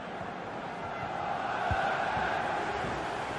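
A stadium crowd in the FIFA 23 football video game, during a Lazio versus AZ Alkmaar match, keeps up a steady, broad roar of cheering that swells slightly, with no clear talk over it.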